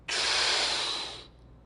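One long, deep inhalation during a breathwork exercise, a steady airy rush lasting just over a second that fades out, close to the microphone with no talking.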